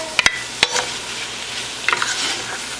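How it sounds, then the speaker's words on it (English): Mushrooms and onions stirred in melted butter in a pan for a cream of mushroom soup: a soft, continuous sizzle with a few sharp utensil scrapes at the start and a brief burst of stirring near the end, close up, no talking. "And we'll just stir that around a bit and coat the mushrooms."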